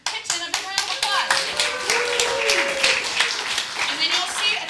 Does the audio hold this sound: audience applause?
yes